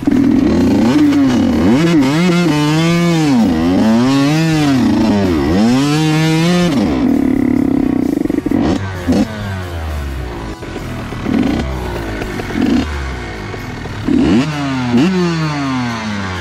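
Motorcycle engine running at a steady idle during a two-day camping ride, loud and continuous throughout, with a rougher, uneven stretch in the second half as the tone shifts and briefly rises.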